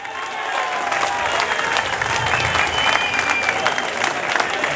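Audience applause at a Hindi-Urdu mushaira poetry gathering in Jahanian, a steady dense wash of clapping that holds evenly throughout without any voices on top.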